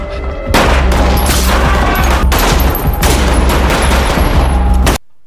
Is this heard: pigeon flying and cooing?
no